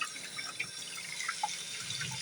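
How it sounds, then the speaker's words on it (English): Cold water running from a household tap, a soft continuous splashing stream with a few scattered drip-like plinks, fairly quiet and close, heard alone without talk. "there's not even 1 gallon of warm water coming out of this tap at all"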